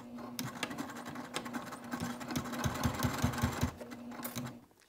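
A sewing machine stitches a wristlet lining closed near the edge, a close rhythmic hum with a quick run of needle thumps in the middle.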